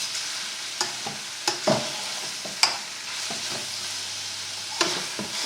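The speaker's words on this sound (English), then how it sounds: "anything that's sticking to the bottom, you just want to scrape that off with your spoon" A spoon stirs and scrapes fajitas in a hot frying pan, with soft sizzling underneath and intermittent scraping clicks against the pan bottom, close up and without speech.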